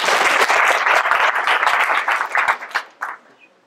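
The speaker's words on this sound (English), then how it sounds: "And a big clap for yourself." A conference audience standing up claps for itself, a loud dense burst of applause that thins into scattered claps and fades out over the last second.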